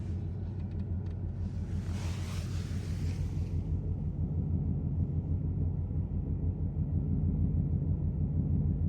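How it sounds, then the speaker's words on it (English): Steady low rumble of a Ford Mustang GT S550 V8 with long tube headers and active exhaust in quiet mode, idling as heard from inside the cabin, with a brief hiss early on. "Here's the idle from inside."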